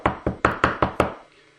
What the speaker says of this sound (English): She knocked on the door.